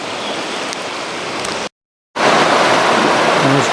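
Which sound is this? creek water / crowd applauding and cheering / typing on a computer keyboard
creek water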